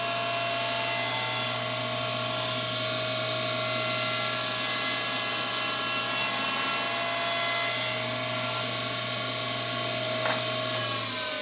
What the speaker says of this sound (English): These boards are slightly cupped, so I'm holding them down tight to the table saw top as I push them through the saw.